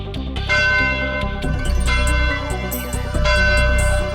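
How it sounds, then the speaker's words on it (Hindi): A bell rings to signal the win of the first race in an animated racing competition, sounding as loud, resonant clangs over busy music with no talk. "घंटा बजने का मतलब है कि कोई ने पहली रेस जीत ली है।"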